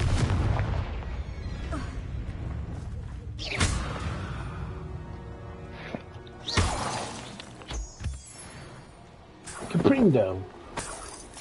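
Confringo fire spell blasts in Hogwarts Legacy, with several sharp explosive booms and crackling bursts spread through the clip over game sounds and a voice talking.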